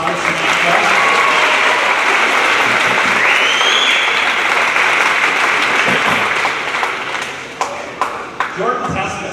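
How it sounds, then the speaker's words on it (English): An audience at an academic awards presentation applauds a student, loud sustained clapping with a few whistles and cheers, thinning out toward the end as a voice begins. "Round of applause for Samantha."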